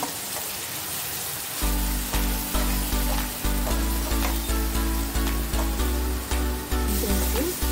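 Onion paste sizzles hard in a pan for a village-style barramundi fish curry, a steady loud hiss joined partway through by rhythmic low thumps of stirring.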